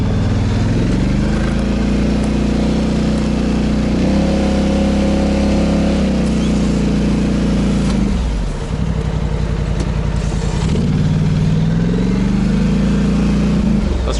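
Polaris Sportsman XP 1000 ATV on Maxxis Bighorn tires, in low gear, pushing snow into a snowbank with a plow blade; a loud, close engine drones and revs up and down steadily throughout with no talking.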